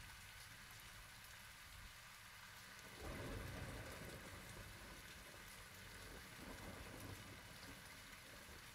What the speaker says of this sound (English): the storm sounds amazing